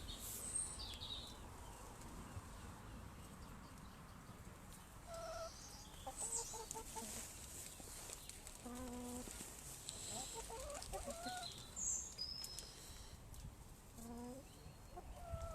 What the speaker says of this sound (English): So here are the chickens, just to show that they're here, they're happy